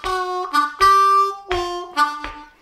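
Blues harmonica lick, played solo and close: a few bright, reedy sustained notes and short bent stabs in a choppy phrase, with no voice.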